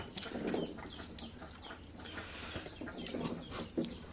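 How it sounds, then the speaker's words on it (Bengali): Chickens and ducks cluck and call outdoors in sunny weather at a lemon market area, soft and somewhat distant, with scattered clucks over a rustling background and no talking. "এই যে হাঁস মোরগ কি করতেছে"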